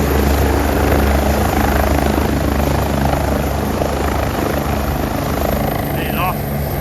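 A helicopter sits in a field with its rotor and engine roaring loud and constant throughout, readying for takeoff, while people talk faintly underneath.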